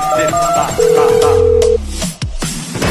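A mobile phone call tone rings out loudly in a sustained beep after a few short tones, followed by clicks and handling noise.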